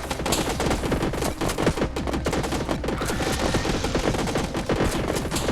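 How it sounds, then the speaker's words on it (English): Rapid, dense volleys of projectile fire from alien octopuses in the video game Alien Slayers, loud continuous shooting bursts with no pauses across the whole stretch. "We got octopuses firing ground projectiles at us?"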